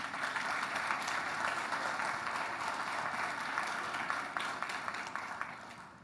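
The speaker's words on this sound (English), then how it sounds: "I would kindly request a round of applause to all the volunteers who made this happen." A conference audience applauds the volunteers with steady, dense clapping that holds for several seconds before tapering off slightly at the end.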